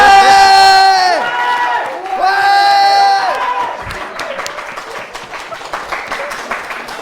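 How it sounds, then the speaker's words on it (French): Audience applause at a student quiz show, starting under loud cheering voices and singing-like shouts, then settling into steady crowd clapping with scattered hand claps and chatter. "On peut applaudir."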